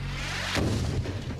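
FGM-148 Javelin anti-tank missile striking its target, a single boom with a broadband burst followed by a low rumbling tail, fairly loud and with no talk.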